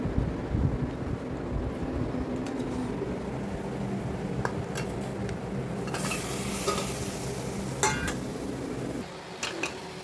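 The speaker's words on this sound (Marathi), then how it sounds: "इथे हे मटण वगैरे टाकून ना मी हे छान असं चांगलं हलवून घेतलेलं आहे सगळं" Washed mutton being stirred in a pan, a dense steady sizzle and rumble with occasional clinks and scrapes of a utensil against the metal, close and continuous, easing near the end.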